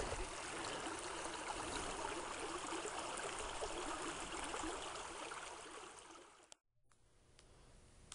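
A small stream runs through a rural farm valley in Franklin County, southwest Virginia, with a steady close rushing and trickling flow that cuts off abruptly near the end, leaving a quieter, thinner water sound.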